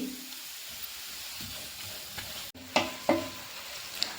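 Onions and spices frying in a pan for a fish fry masala, a soft steady sizzle with a few louder scrapes and clatters as the mix is stirred, close by and with no talk.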